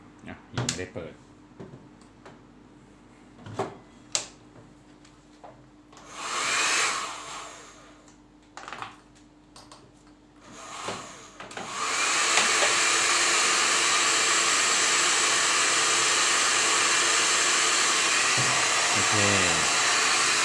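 A hair dryer blows hot air onto the metal iron used to press decoupage paper onto a candle, a loud steady whoosh switching on partway through and running continuously after scattered clicks and handling sounds.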